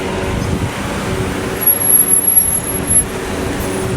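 Road traffic in a Kuwait city street, with cars backed up in a jam by a police stop, gives a steady low rumble of idling and slow-moving engines, a faint high whine overhead, and no talk.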